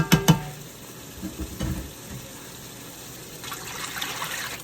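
Tomatoes cooking in a pot for yam soup sizzle and bubble softly, with a couple of sharp utensil knocks at the start and light stirring and scraping afterward, close by and fairly quiet.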